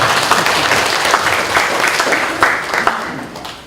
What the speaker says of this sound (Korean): 여기서 박수를 한번 치십니다.